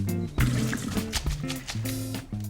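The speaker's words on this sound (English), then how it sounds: "just drain the water from it" Water draining and trickling in a kitchen, wet sloshing and dripping sounds close by, heard under intermittent background voices.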